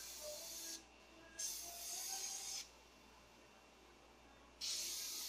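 An airbrush sprays paint in three bursts of bright hissing air, each lasting about a second or more with quiet gaps between, close and steady, the last burst starting near the end.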